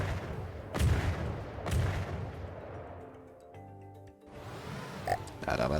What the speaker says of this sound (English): I've got to fire in bursts now.